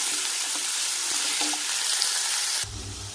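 Chopped onions frying in oil for paneer butter masala, a steady close sizzle that runs throughout and drops to a softer, lower crackle near the end.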